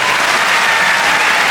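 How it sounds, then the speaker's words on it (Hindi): Loud, dense applause from an audience for the performing artists at an annual felicitation event in Patna, steady and unbroken throughout with no voices standing out. "वो कलाकार लोग तालियां चाहते हैं"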